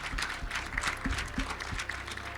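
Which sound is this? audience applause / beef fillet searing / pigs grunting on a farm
audience applause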